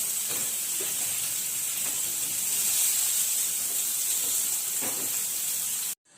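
Salmon fillet on a grill gives off a continuous soft hiss and sizzle, steady and close, with a few faint clinks and shifts underneath before it stops abruptly.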